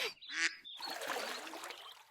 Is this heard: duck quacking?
yes